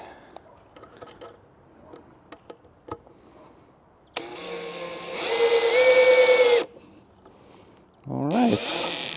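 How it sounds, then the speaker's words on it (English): A power drill drives a screw into wood while building a playground, a loud sustained whir of about two seconds rising in pitch, preceded by scattered taps and followed by a shorter burst of drilling. "And screw it in."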